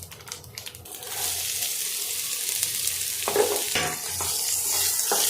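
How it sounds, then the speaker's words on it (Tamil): Finely chopped large onions fry in hot oil while being stirred around a pan for dry pepper chicken, a steady close sizzle with scraping stirs and no talking. "இப்போ வெங்காயத்தை இதில் சேர்த்துக்கலாம்"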